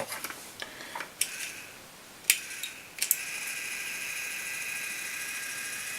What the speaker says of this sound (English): the dryer will then rotate that until it dries